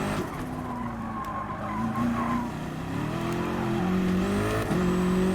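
A race car in Gran Turismo Sport brakes hard with sustained tire squeal and skidding over a loud, shifting engine drone, close and continuous throughout.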